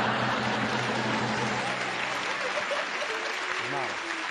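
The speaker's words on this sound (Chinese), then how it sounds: "给姚总一点热烈的掌声。" A studio audience at a televised job-hunting show applauds in a steady, broad wash of clapping, with voices talking over the start and the end.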